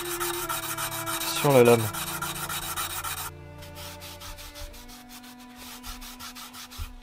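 Polishing a knife blade by hand with Gesswein diemaker stones: close, steady abrasive rubbing strokes with a metallic scrape, a spoken remark, then quieter rhythmic strokes against background hum.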